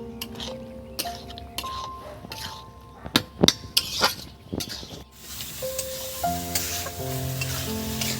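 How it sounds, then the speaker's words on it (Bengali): Mutton pieces sizzle in hot oil with spices as a utensil stirs and scrapes them, with sharp clinks against the pot in the middle; a steady frying hiss runs throughout, close and fairly loud, with no talk. "এবার এই মশলার সঙ্গে ভালো করে কষতে থাকবো বন্ধুরা"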